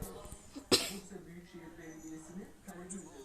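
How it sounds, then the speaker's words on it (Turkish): A single short cough stands out amid low background talk and room noise, fairly close. "Arkadaşım öksürdü."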